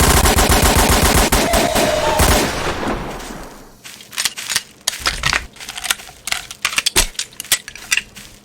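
A powerful gun fires in Garry's Mod: a loud rapid automatic burst for about three seconds, then a string of separate sharp shots and clacks at irregular intervals.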